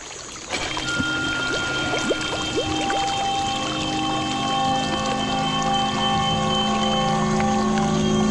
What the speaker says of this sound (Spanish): es básicamente el sonido de una campana en reversa, pero estirado